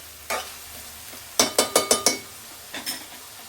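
Mutton curry with turmeric and ginger garlic paste is stirred in a pot, a quick run of five or six scraping strokes, plus a couple of earlier and later scrapes over a faint sizzle.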